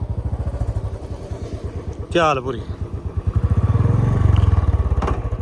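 A Royal Enfield Bullet motorcycle on a cold morning thumps with a steady single-cylinder beat, with a sharp clattering burst midway as it catches and the rhythm swells, while someone talks nearby.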